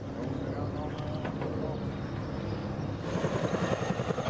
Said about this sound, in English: A fucking Chinook just flies by.